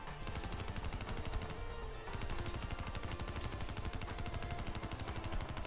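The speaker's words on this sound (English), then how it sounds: "Explosions." Explosions and gunfire from the video game Call of Duty Black Ops 3 zombies mode, after a monkey bomb is thrown, a dense stream of rapid, overlapping blasts and shots that carries on without a break.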